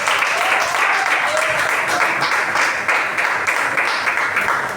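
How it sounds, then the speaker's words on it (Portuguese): Strong, sustained clapping from a church congregation welcoming their pastor, dense and even throughout with no pauses. "Vamos receber o nosso pastor com as palmas bem fortes para o Senhor."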